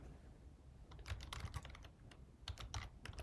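Rapid keystrokes on a computer keyboard, clustered into short irregular bursts of clicks at close range with no speech.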